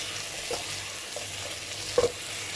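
Dried red chili powder is stirred into masala in a pan over low flame, soft sizzling under a few scraping spoon strokes, one louder knock near the end.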